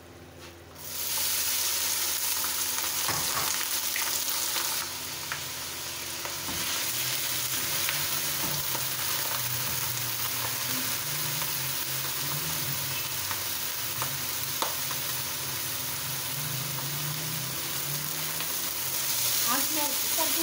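Rice is stirred into hot sugar syrup in a pot for degi mutanjan, a sweet rice dish, giving a steady close sizzle with soft scraping stirs throughout and no talking.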